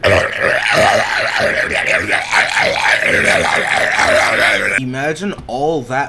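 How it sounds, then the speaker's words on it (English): A long, guttural burp with a wavering pitch, heard under a man's loud speech, with a shorter croaking burst near the end. "That noise is a fucking burp"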